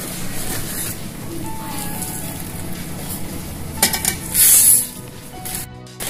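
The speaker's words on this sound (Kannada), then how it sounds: "ಹೆಸರುಬೇಳೆನ ಸಣ್ಣುರಿಯಲ್ಲಿ ಕೆಂಪುಗಾಗೋವರೆಗೂ ಹುರ್ಕೋಬೇಕು." Moong dal stirred and roasted over low heat in a pan, giving a soft, continuous dry sizzle and scraping, with a brief louder clatter near the end.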